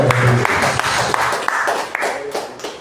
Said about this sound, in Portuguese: Quem pode dar uma salva de palmas bem forte para Jesus nessa noite?